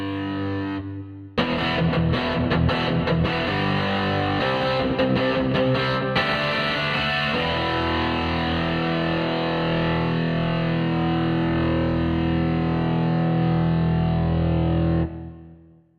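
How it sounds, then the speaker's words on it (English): A distorted electric guitar on its bridge pickup plays bright, biting chords and single notes, then holds a long sustained chord that rings out before cutting off. "Okay, we'll change to the bridge pickup."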